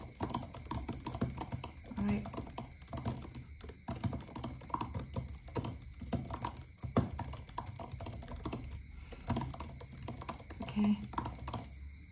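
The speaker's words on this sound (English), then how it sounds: "there's no point of typing here and then again deleting it" Steady typing on a computer keyboard continues for many seconds, close and soft with dense irregular key clicks and occasional heavier taps, under quiet soft-spoken talk.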